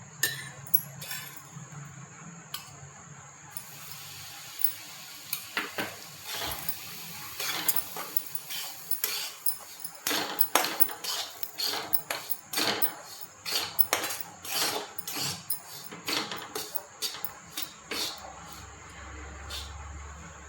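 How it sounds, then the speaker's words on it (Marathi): Semolina being roasted in ghee in a wok for sheera, with repeated metallic scraping and clinking of a spatula against the pan, irregular strokes over a quiet background. "आता गरा भाजून घेऊ."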